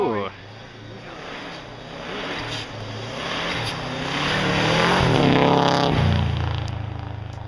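A Subaru rally car engine snarls and revs at a snowy Michigan rally stage, swelling louder as the car passes close, while spectators talk over the roar.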